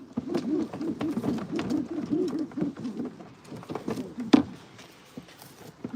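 Pigeons from a Swiss breeding loft, settled in their coop, give a steady run of low rolling coos close by, with a brief sharp knock partway through and softer cooing fading at the end.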